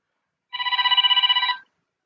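A telephone bell rings once, a single short electronic trill of about a second with a rapid fluttering pulse, loud and close, alone between silence during a lecture.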